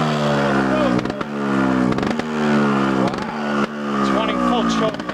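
An engine revs loudly through its muffler while a vehicle drives over snow at a motorcycle shop, the roar rising and falling in several surges with clattering bursts between them, close up and dominant.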